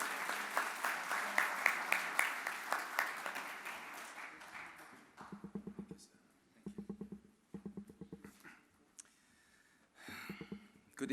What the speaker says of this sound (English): let us welcome, with a big round of applause,